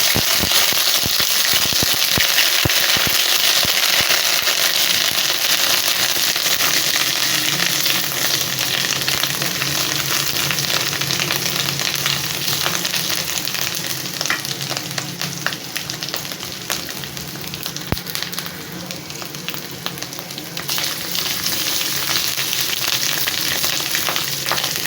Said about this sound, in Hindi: अब लहसुन अदरक का पेस्ट डाल दें।